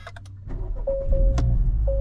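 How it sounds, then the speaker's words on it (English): A 2025 Acura Integra Type S started with its push-start button: a few light clicks and chimes, then the engine cranks and catches into a loud, steady low idle, close by. "So to start up your Type S, essentially, there is a push to start button located right behind the steering wheel"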